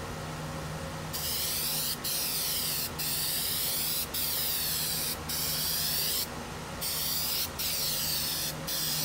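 Plasti Dip sprayed from an aerosol can onto a Buell XB9SX motorcycle tank cover, a series of close, steady hissing bursts of about a second each with brief gaps between, over a low background hum.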